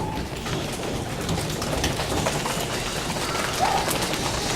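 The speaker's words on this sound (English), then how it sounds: "Now, it had started to softly rain." A steady, soft hiss of rain falling continuously, with faint bird calls in the background.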